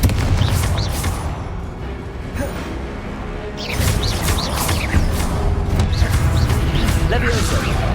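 Confringo blasting spells explode in a Harry Potter video game amid a dense, continuous wash of booming combat noise, with a voice shouting over the chaotic fight.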